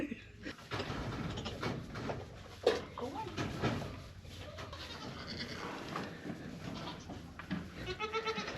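Nigerian dwarf goats bleating on a homestead, several short nasal cries scattered through a busy background with people talking nearby.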